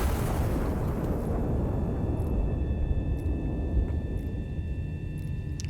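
Deep, sustained roar and boom of a naval gun firing and exploding in the video game Iron Nest, a loud rumbling blast that slowly fades, with faint electronic tones.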